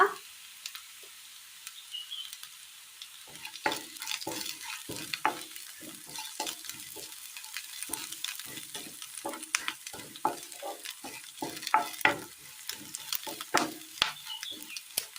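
Onions sauté gently in a pan with green chilli and curry leaves for a homestyle curry; a faint sizzle sits under frequent, irregular scraping and clacking stirs.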